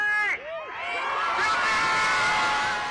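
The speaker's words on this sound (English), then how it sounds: "A crowd of several hundred people that had gathered outside a fortified Hennepin County courthouse erupted in cheers when the verdict was announced" Several hundred people gathered outside a fortified Hennepin County courthouse erupt in loud, sustained cheering and whooping at a guilty verdict, a dense roaring crowd swelling after a brief dip.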